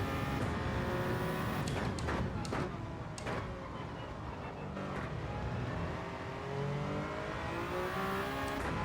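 Racing video game car engine, a high-torque, low-RPM car, roaring loudly and steadily throughout, with rapid downshifts producing brief revving bursts and pitch changes.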